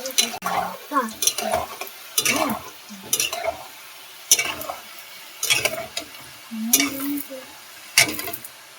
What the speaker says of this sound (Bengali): আরো আছে, এগুলো ভেজে নেবো।